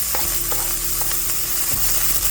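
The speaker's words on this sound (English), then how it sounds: "So we're just gonna go ahead and sweat the garlic and onion" Onion and garlic sauté in oil over low heat for a baked potato soup, giving a loud, dense, steady frying hiss with a low hum running underneath and a few soft stirring clicks.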